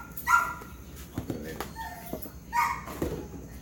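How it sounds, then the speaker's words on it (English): A dog outdoors barks and whimpers for attention, giving a few sharp yips and barks with whiny cries in between, heard fairly close during early-morning kitchen prep with clattering in the background. "Now my dog outside wanting attention, so excuse him."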